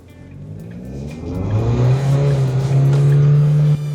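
An MG TRQ L car in first gear revs up hard into a sharp left turn, a close, loud engine note that climbs steadily and holds high before cutting off abruptly near the end.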